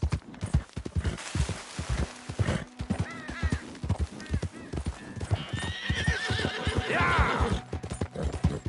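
A horse in Red Dead Redemption gallops with rapid, loud hooves and lets out several high whinnies, and a man gives a short shout partway through.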